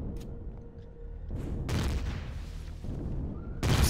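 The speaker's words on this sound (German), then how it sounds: "So ein Automatikgeschütz." Automatic turret firing in the Empyrion space survival game: several loud, booming bursts of gunfire break out over a low rumbling background, with the heaviest blasts arriving in the middle and at the very end.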